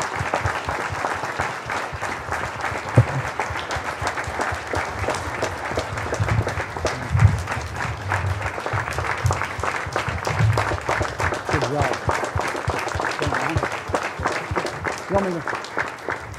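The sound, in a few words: round of applause for a police officer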